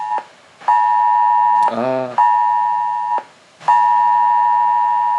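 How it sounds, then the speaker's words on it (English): A phone's emergency alert notification about COVID blares loudly in long repeating tones, broken by a harsh warbling burst between them. "They have sent a notification to avoid gathering or traveling because of COVID."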